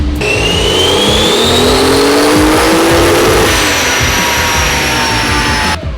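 Toyota 2JZ engine on a dyno pull, roaring loud and close as the revs climb steadily with a rising whine, then holding near the top before easing slightly at the end.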